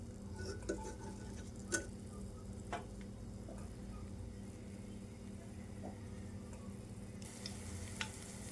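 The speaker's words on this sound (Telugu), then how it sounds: "నేను మొత్తం డీప్ ఫ్రై చేసేస్తా, ఆయిల్లోనే నిలవ ఉండడానికి చేస్తున్నా" Gongura leaves deep frying in oil, a soft steady sizzle and bubbling running throughout at low volume, with a few faint clicks and taps from a strainer or utensil scattered over it.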